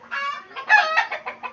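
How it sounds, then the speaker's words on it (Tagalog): Chickens clucking close by, a short run of several quick throaty clucks and squawks in uneven bursts, with no talk. "Sa baas mga manok mga boss."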